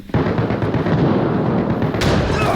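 Loud, dense grenade blasts from the shooter video game Arena Breakout: Infinite: a sudden close explosion bursts in and rumbles on, with a second sharp blast near the end.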